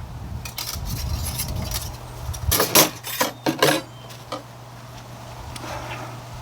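Metal plates of a small Lixada flat pack twig stove clink and rattle as they are handled, a few sharp bright clatters clustered in the middle, loud and close, then quiet.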